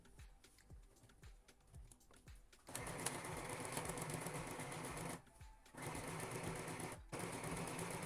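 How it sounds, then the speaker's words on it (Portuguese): A sewing machine stitches a seam along the side of a fabric lining for a round-based crochet bag, first in slow separate clicks, then in a fast continuous run with two short pauses, close and clear. "aqui eu vou fazer uma costura então em toda essa lateral"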